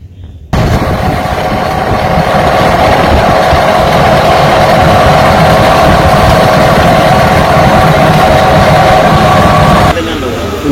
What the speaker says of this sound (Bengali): তো একা একা নৌকা চালাইতেছি